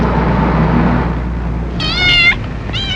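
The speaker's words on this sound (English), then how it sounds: "Your cat seems to have gotten itself locked out." A cat locked outside meows twice, close and clear, a drawn-out cry followed by a shorter one, over a low rumbling background.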